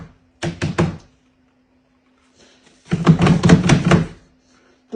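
Knocks on a part of a Roomba robot vacuum come as a few quick hollow plastic taps, then a longer burst of rapid tapping, close and fairly loud against a quiet background.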